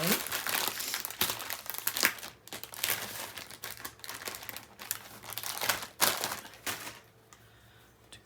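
Crinkling plastic as a wet wipe is pulled from its soft package at a papercraft table, a series of close, sharp rustles and crackles in irregular bursts that thin out toward the end.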